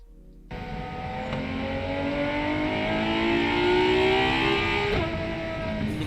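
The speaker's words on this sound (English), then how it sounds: "It's a proper F1 car, that." A Formula 1 race car engine revving, a loud high-pitched wail climbing through gears with rising and falling pitch sweeps after an abrupt start, no talk.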